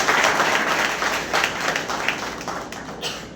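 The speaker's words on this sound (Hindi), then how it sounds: "उसके लिए भी जोरदार तालियां" Loud applause from a class gathered to honor a student now working as a teacher, dense clapping with a few stronger bursts, gradually thinning toward the end.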